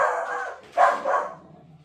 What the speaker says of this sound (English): The dog has gone out barking.